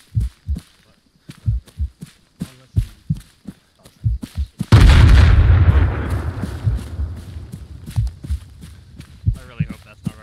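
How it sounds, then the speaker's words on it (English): Artillery or mortar fire in ARMA 3: a run of short, punchy thuds, then a massive explosion that rumbles and decays over several seconds before more distant thuds resume. "That's artillery or mortars of some sort."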